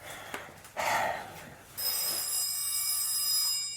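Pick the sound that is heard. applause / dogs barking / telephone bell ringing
telephone bell ringing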